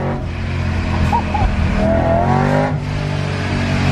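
A supercharged BMW M3 engine revs hard and holds at high RPM, loud and close, with a harsh rising whine and no talking.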